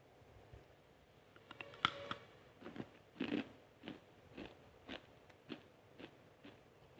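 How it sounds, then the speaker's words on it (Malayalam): Crisp homemade Onam kaliyadakka, a fried rice-flour snack, is bitten with a sharp crack and then chewed in a run of close, soft crunches at a steady pace. "അപ്പോൾ ഇത് കറക്റ്റായിട്ട് മൂത്ത് വന്നിട്ടുണ്ടോയെന്ന് ഇതിൽ നിന്ന് ഒരെണ്ണം എടുത്തൊന്ന് കഴിച്ച് നോക്കട്ടെ"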